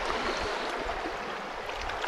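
The Rio Grande flows close by along its bank in the Big Bend area, a steady broadband rush and gurgle of moving water with no voices.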